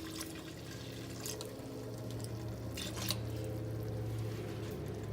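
Milk poured from a half-gallon jug into a pan of sausage gravy, a steady, close liquid pour with light splashing that continues without a break.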